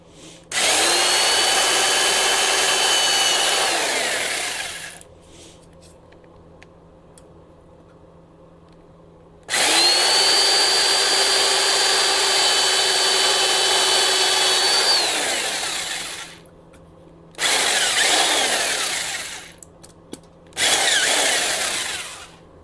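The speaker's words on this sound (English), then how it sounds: "Then get your drill, a little bit bigger than the bolt." Power drill boring bolt holes during an American DJ Par 56 LED retrofit, loud close whirring runs of about five seconds each, followed by two shorter bursts.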